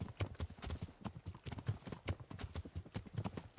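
Horse hooves clop in a quick, even rhythm in the medieval video game Kingdom Come: Deliverance, a faint but steady trotting with no talk.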